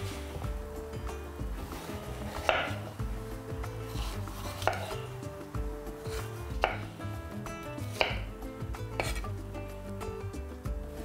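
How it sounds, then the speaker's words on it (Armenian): Steady knife chopping of colourful sweet bell peppers on a cutting board, rhythmic rapid taps with a few louder strikes, close up, no talking. "Շատ մանր չենք կտրատում։"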